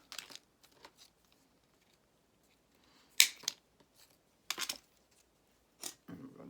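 Claw scissors rounding the paper corners of a journal: a few sharp, isolated snips and crinkles spaced seconds apart, close and quiet, with no talking.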